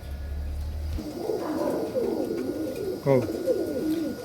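Kaldom pigeons, a high-flying breed, give soft, close coos in short throaty bursts over a faint background hum.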